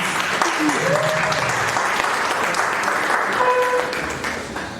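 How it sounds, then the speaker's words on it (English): Event audience at a Ghana talk on Bitcoin and the future of money applauds as a speaker comes up, steady crowd clapping that fades toward the end, with a voice briefly heard over it. "A round of applause for him as he comes."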